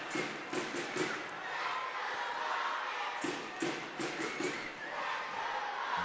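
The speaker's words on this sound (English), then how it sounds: "Comets fans cheering on the home team." Kansas City Comets fans cheer the home team at an indoor soccer game against Utica City FC, a steady crowd roar with rhythmic claps and bangs, fairly faint and distant.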